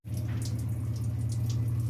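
Water is poured onto mutton in a cooking pot for biryani, making a steady, close, continuous gushing splash that lasts the whole moment without talk.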